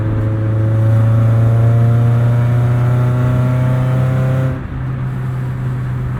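A 1996 Acura Integra Lemons race car with a swapped Honda engine holds a loud, droning exhaust note that climbs steadily with acceleration, then drops off abruptly as the throttle lifts, close and alone.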